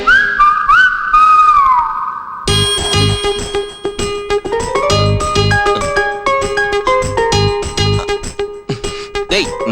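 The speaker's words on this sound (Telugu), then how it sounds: "నాకు నిద్రలో ఈల వేయటం అలవాటు." A person whistles a short, wavering melody in their sleep, loud and close, before a musical score with plucked and percussive notes takes over for the rest of the clip.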